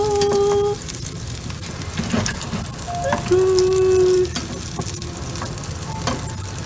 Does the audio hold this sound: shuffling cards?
no